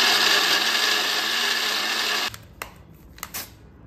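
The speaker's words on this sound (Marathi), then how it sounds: "आपण हे मिक्सरमध्ये जे पेस्ट करून ग्रेव्ही करून घ्यायची" A kitchen mixer grinder blends cooled butter chicken gravy into a smooth paste, a loud steady high whirring motor that cuts off abruptly partway, followed by a few light clinks and knocks.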